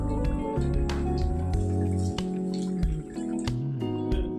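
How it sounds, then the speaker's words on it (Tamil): Rice batter for Chettinad-style vellai paniyaram is poured in wet dripping, squishing bursts, close by, over a steady tonal hum that runs underneath throughout. "எல்லா மாவையுமே ஊற்றி எடுத்துருவோம்."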